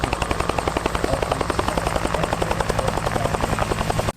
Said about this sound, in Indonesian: Ternyata helikopter.